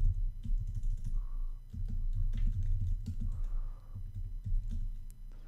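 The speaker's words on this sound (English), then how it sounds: "I go over to my web browser and I type in localhost" Typing on a computer keyboard on a Mac, quiet irregular bursts of key clicks close by with no voices.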